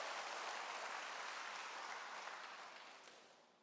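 Broad, dense applause from a church congregation, sustained and fairly distant, tapering off toward the end.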